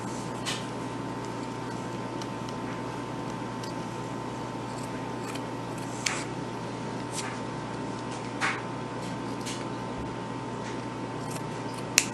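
Scissors snip through buffalo check stocking garland in a few quiet, sparse cuts, a soft crisp click now and then over a faint steady room hum, with no talking.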